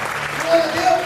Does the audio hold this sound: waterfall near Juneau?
no